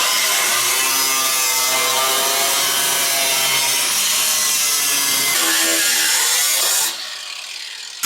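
Old trunk floor sheet metal being cut away on a 1970 Pontiac GTO: a loud, close, steady rasping tool whine with shifting pitch runs for about seven seconds, then drops to quieter residual noise.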